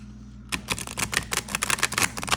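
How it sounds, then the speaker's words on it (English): A new tarot card deck being shuffled by hand, giving a rapid run of crisp riffling card clicks at close range after a brief quiet start, with no talking. "let's just give them a quick shuffle and see if the cardstock's better than I think"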